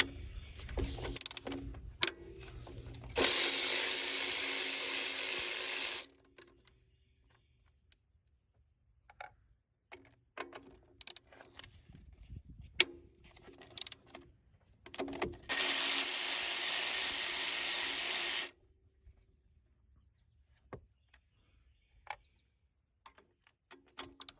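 Ratchet wrench loosening starter bolts on a Honda Accord: two bursts of rapid clicking ratcheting a few seconds each, separated by quiet stretches with scattered clinks and handling noises, close up.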